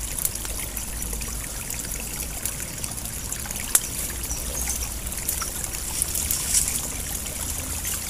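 Water poured into a pot for cooking cassava-leaf buntil over a wood fire outdoors, a steady continuous trickling and splashing that runs throughout at moderate loudness, with no talk.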